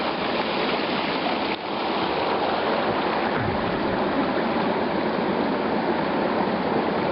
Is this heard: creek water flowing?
yes